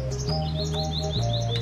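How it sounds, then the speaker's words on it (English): Birds chirp and tweet in short, repeated high notes over a low steady hum in Roxas City, Philippines, bright and fairly close. "You can even hear the birds sing here."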